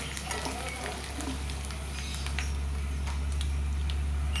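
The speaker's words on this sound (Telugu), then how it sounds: "3 వెల్లిపాయలు ఇలా తాలింపులో వేసి ఫ్రై చేసుకోండి." Garlic and dried red chillies crackle in hot tempering oil, a steady close sizzle flecked with small pops and spits, underlaid by a low constant hum.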